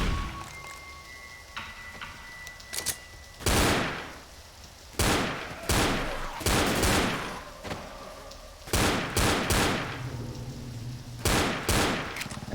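Gunfire in the zombie shooter Left 4 Dead (2008), loud close bursts of rifle and pistol shots fired in rapid volleys with short gaps, over a steady game background.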